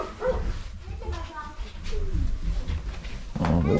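Puppies whining and yipping close by, with high thin whimpers and short yelps mixed in among a person talking over them.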